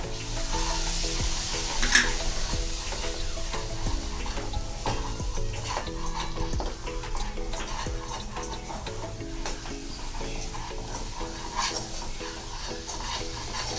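Chole masala fries with tamarind water in a pan, a loud, dense, bubbling sizzle with constant stirring and scraping, over faint tonal background music and no voices.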